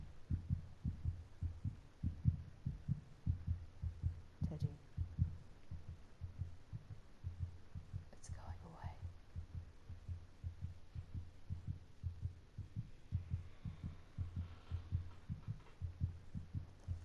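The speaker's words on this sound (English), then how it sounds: "Why is my heart beating?" A heartbeat in the horror video game Among the Sleep thumps in a steady double-beat rhythm, low and muffled, repeating evenly throughout with faint ambient hum and occasional soft noises.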